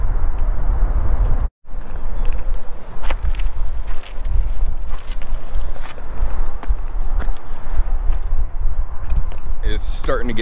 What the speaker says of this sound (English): It's starting to get pretty windy up here.